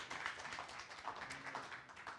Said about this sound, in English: Victor, get a nice round of applause from everybody